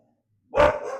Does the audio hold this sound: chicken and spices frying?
no